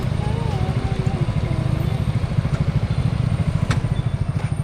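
A small motorcycle cruises along the Karak highway, its engine a close, steady, rapidly pulsing drone that holds throughout, with a voice briefly heard over it at the start.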